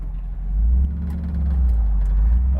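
A truck rumbles past while heard from inside a 1958 Chevrolet pickup, a deep low engine drone swelling and holding steady at moderate loudness, with the idling cab noise underneath.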